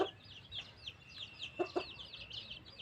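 Young chickens, including feather-footed birds in a small flock of growing chicks, cluck and chirp in quick overlapping calls, fairly close and steady, with a few lower clucks standing out.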